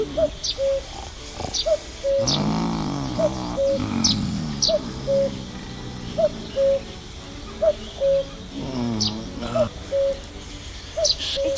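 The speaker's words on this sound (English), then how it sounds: "A cuckoo. It sounds so." Cuckoo calling in the game Night of the Rabbit, a repeated two-note call at a steady rhythm, with a voice speaking over parts of it.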